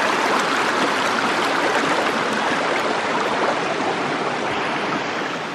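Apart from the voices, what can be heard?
small rainforest stream flowing under a bridge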